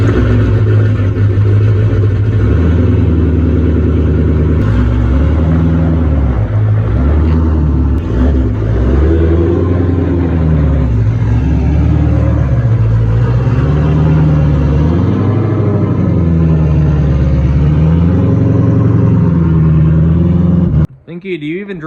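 A drift truck rolls into a garage, its engine rumbling steadily and loudly with gentle rises and falls in revs throughout, cutting off abruptly near the end.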